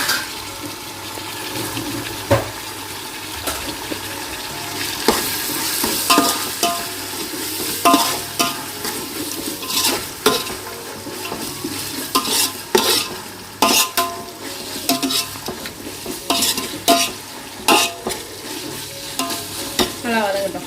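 Ground tomato fries with ginger-garlic paste in a pan, a loud wet sizzle broken by repeated scraping and clanking stirs of a spoon against the metal, close up with no talking.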